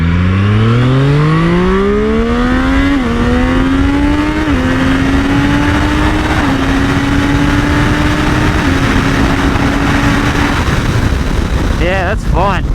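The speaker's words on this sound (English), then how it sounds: "you do deserve some acceleration deliciousness with the Street Triple" A Triumph Street Triple 765 RS motorcycle accelerating hard and close, its engine note climbing through several gear shifts in a loud, continuous pull before fading, then a brief sharper burst at the end.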